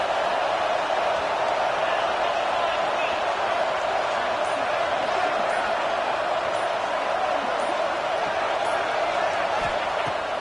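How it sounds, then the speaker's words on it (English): A constant, dense roar of a large stadium crowd in a football video game, steady and loud throughout with no breaks. "This crowd bringing the energy and noise early."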